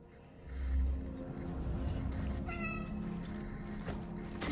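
A cat meows in a spooky Christmas-themed video game, several drawn-out meows over a low ambient background hum, fairly clear and close.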